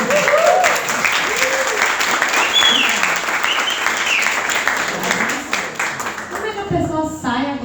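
A crowd applauds steadily for several seconds, loud and dense clapping that tapers off near the end as a voice begins speaking.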